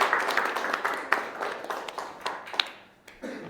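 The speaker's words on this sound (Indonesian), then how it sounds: "Tepuk tangan dulu." Soft audience clapping at a university teaching session, a steady patter of many hands that fades out toward the end, with no talk over it.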